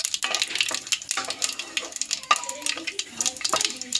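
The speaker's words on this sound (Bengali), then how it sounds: "ফোড়নটা হালকা করে নাড়িয়ে নেব।" Tempering of bay leaf and whole cumin seeds sizzles in a pan, with brisk close crackling bursts and stirring scrapes, wet and uneven.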